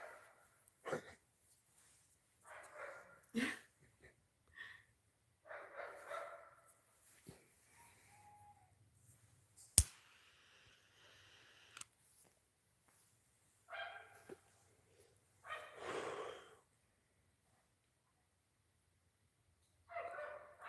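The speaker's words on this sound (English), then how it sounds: "Why the dog barking?" A dog barks repeatedly from a distance, scattered single and paired woofs spread across a quiet stretch with long pauses and a sharp knock between them, no talking over it.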